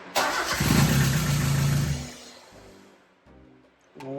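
A car engine cranked after an engine installation, running on fuel four to five months old: the starter whirs and the engine catches with a rough roar, then sputters down and dies, followed by another crank at the end.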